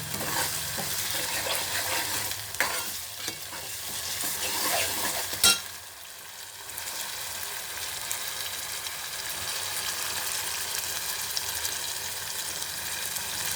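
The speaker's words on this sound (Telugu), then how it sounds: "ఇక్కడ ఉల్లిపాయ, అల్లం వెల్లుల్లి పేస్ట్, పచ్చిమిర్చి, కరివేపాకు బాగా ఫ్రై అవుతుందండి" Onion, ginger-garlic paste, green chilli and curry leaves fry in a pan with a steady, close broadband sizzle throughout, briefly stirred with a couple of sharp utensil knocks midway; no one talks.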